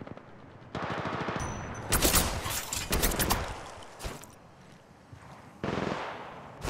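Automatic weapon fire in the Apex Legends Mobile battle royale game, with dense rapid bursts that come in several loud clusters, then a lull and one more burst near the end.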